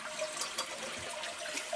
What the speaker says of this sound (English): We're going to give it a flush.